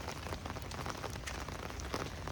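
Heavy rain pours outside a house, a dense, steady hiss of drops spattering on surfaces, even and continuous with no voices.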